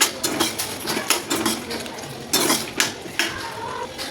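A spoon scrapes and clinks against a pan as ground coriander-cumin and garam masala are stirred into Kathiawadi-style sev tameta tomato curry, with repeated short metallic scrapes in an uneven rhythm, close and fairly loud, with no talking.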